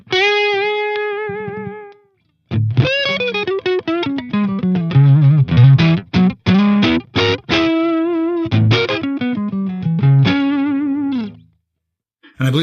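Electric guitar played through a Friedman IR-D pedal at an edge-of-breakup setting: sustained chords and single-note runs with slight grit, loud and close, a brief pause early and trailing off near the end.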